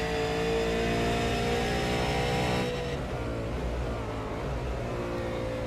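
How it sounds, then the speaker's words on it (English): V8 Supercar in a sim racing game at Road Atlanta, short shifting out of a chicane over a hill: a steady engine whine that drops abruptly as the gear changes, then a lower, rougher drone, with no voices. "You can hear him short shifting coming out of that chicane over the hill, making sure he doesn't lose traction."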